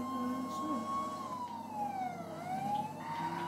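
A police car siren in the video game GTA V wails with slow rising and falling sweeps over engine and road noise, moderately loud, while a person talks.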